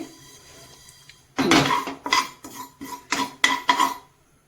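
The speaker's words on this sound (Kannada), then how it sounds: "ಗಸಗಸೆ ನಾವು ಸ್ಲೋ ಉರಿಯಲ್ಲೇ ಫ್ರೈ ಮಾಡಬೇಕಾಗುತ್ತೆ" Poppy seeds are fried in a pan over a slow flame: after a quiet start, about five loud, close bursts of scraping and clattering stir through the pan in an uneven rhythm, with no voices.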